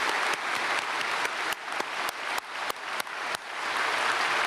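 A church congregation at a Sunday worship service breaks into sustained applause, a dense wash of clapping with a few sharper, louder claps standing out from the crowd.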